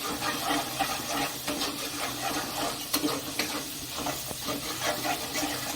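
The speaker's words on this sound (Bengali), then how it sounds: "দিয়ে ভালো করে মিশিয়ে নিচ্ছি" Banana flower (mocha) dish being stirred and mixed in a pan, scraping strokes and soft clinks over a steady sizzling hiss from frying, fairly close and continuous without talk.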